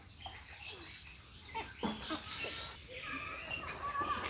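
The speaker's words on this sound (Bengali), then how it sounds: "দেখেন মুরগি" Chickens cluck faintly now and then in an open farmyard, a low steady outdoor hum running beneath their calls.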